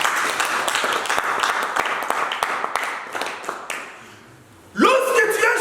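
Church congregation applauding, a dense patter of clapping that thins and fades out before a loud voice breaks in at the end.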